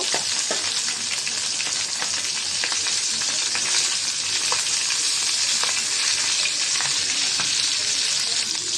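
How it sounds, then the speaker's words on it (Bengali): Fish head and tail frying in hot oil in a kadai, a dense, steady crackling sizzle with scattered pops throughout, close and loud. "এখন মাথা আর লেসটা এখন বেজে নেব"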